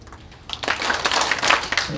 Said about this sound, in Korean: 박수 3번